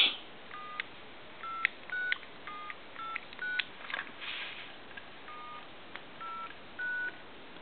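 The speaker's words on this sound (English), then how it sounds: "Let's do some checks on this telephone here real quick. We'll go ahead and dial all of our numbers." A telephone keypad dialed through all its numbers during a repair checkout, producing a run of short, clean DTMF tone pairs in an irregular rhythm, each beep brief and distinct against a quiet background.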